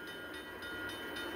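Trains meeting on a railway line, heard as a steady, continuous rumble and hiss of rolling stock at a distance, with no distinct clickety-clack and no talking.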